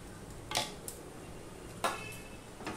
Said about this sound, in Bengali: এবার এটা সমানে নাড়তে থাকবো।